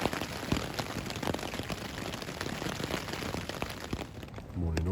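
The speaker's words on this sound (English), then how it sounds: "rain's been lashing down most of the night" Heavy overnight rain drums on a tarp tent while wild camping, a dense, steady patter close by that continues without a break.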